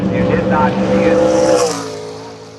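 A race car at Pacific Raceways exits turn 9 toward turn 10, its engine a steady loud drone with rising and falling pitch that fades near the end, heard beneath continuous commentary.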